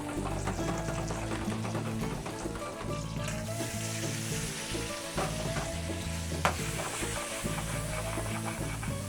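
Pasta and bacon fry in a pan on an induction stove with a continuous close, crackling sizzle, broken by clinks and scrapes of stirring and one sharp knock.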